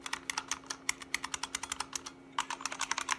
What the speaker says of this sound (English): Luckily, all the typing feels good.